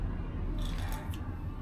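A few quick snipping clicks of scissors cutting grass, faint and close, over a low background rumble.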